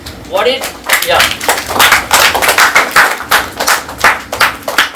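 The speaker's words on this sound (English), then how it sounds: "give a big round of applause to all of you that are actively participating in these volunteering events" Audience applause at a teen volunteering event, a near and fairly loud clapping that rises and falls in waves with overlapping voices during the applause.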